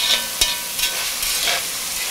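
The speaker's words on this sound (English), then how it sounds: "we're going to try to keep this moving as much as possible because we don't want anything sticking or burning to our pot" Food for a hearty broccoli, potato and meat soup being stirred in a pot over high heat, a steady close sizzle with scraping strokes of the spoon against the pot, no talking.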